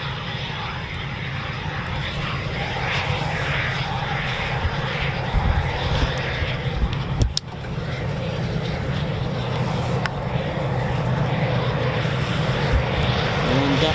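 A Eurofighter Typhoon jet landing at RAF Coningsby roars steadily and loudly throughout, a broad continuous engine rumble with a brief dip midway.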